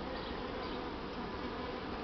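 Buckfast honey bee drones drone steadily at their hive, a continuous dense buzz of many insects heard close and moderately loud without pauses.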